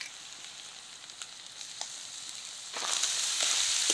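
Chopped cabbage, carrot, grated garlic, grated ginger and green chilli hit hot oil with a steady hiss, swelling into louder, brighter sizzling near the end, with a few light clinks.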